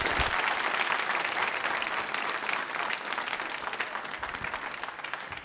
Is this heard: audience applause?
yes